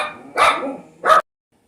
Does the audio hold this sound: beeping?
no